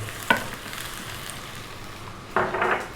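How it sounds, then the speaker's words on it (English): Onion and garlic dropped into hot corn oil for a Chinese chicken dish, giving two brief sizzling bursts, one near the start and a louder, longer one near the end, over a faint steady frying hiss. "Let's drop in half a cup of onion, about a tablespoon of garlic"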